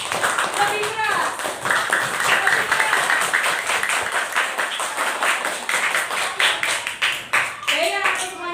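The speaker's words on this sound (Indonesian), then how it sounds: "beri tepuk tangan untuk kita semua" A classroom of schoolchildren claps together at a lesson's end, brisk rhythmic hand claps close by with bursts of children's voices and chatter mixed in.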